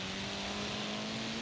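A Citroen DS 23 rally car in the Forza Horizon 4 racing game accelerating hard, its engine a steady loud drone with a clear rising tone that holds through the whole short burst, no voices over it.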